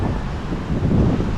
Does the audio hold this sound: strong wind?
yes